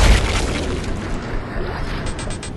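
An explosion in the video game Dead Space 2 bursts with a loud, deep boom at the start, then fades into a broad rumbling roar that keeps going for a couple of seconds.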